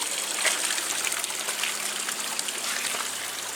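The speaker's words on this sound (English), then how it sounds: "The water in the wishing well is flowing out and not flowing in." Water flows steadily out of a magic wishing well at Waggoners Wells near Grayshott, Hampshire, a soft continuous gushing trickle heard close by with no talking.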